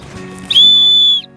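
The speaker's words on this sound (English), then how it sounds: "I really like that it comes with a whistle because I can." The built-in whistle on an REI Tarn 18 kids backpack gives a single sharp, shrill blast lasting under a second, loud and close, with quiet room sound before and after.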